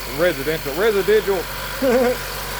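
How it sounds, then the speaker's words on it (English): A 2015 Honda Accord four-cylinder engine idles with its valve cover off, a steady low mechanical hum running beneath a voice. "we got it running, and I don't have the cover on it yet, and we just fired it up"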